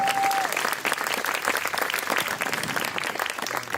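An audience applauds at an event, giving steady, dense clapping that continues throughout without a pause.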